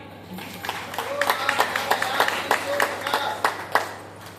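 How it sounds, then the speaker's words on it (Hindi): A seated audience at a motivational talk on getting rich gives a round of applause, with sharp, fairly rhythmic claps building to a steady burst, lightly layered with voices. "जोरदार तालियां इनके लिए"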